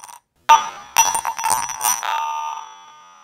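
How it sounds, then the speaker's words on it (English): Field recording made at a high sample rate on a professional recorder, slowed forty times, turns into a series of smeared, ringing, metallic tones that swell after a short gap and fade into a lingering hum. "Even audio recorded at a high sample rate with a professional field recorder like this one here still sounds like this when we slow it down 40"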